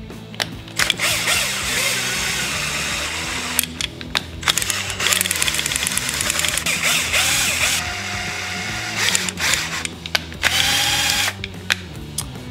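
A drill drives the screw of a Dimide "Ultimate" clamp in repeated loud whirring bursts. The bursts are broken by short pauses and ratcheting clicks, close up, with no talk.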